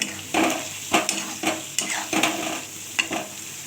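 Ginger sizzling in a hot pan while being stirred for a prawn malai curry made without onion or garlic, with steady frying hiss broken by repeated scraping spatula strokes against the pan, close and alone.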